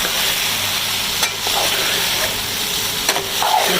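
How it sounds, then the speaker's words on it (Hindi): Okra fries in hot oil with masala and is stirred in a pan, making a loud, steady sizzle up close. A few scraping stir strokes cut through the constant hiss. "मसाला भुन चुका है, अब इसमें हम डालेंगे भिंडी"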